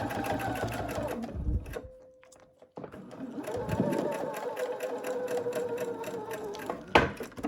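A sewing machine stitches quilt pieces in steady bursts of rapid mechanical whirring, pausing briefly in the middle before running on, close and clear without talk.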